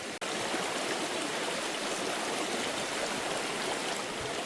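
Smith Creek runs steadily just downstream from Anna Ruby Falls, a constant close rush and babble of water along a woodland trail, with no voices and only a faint click at the start.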